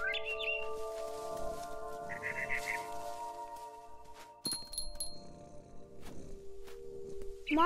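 In the game What Remains of Edith Finch, a barn swallow gives short, bright chirps near the start and end over a soft, steady musical drone, with light rustling steps and a clinking accent in between.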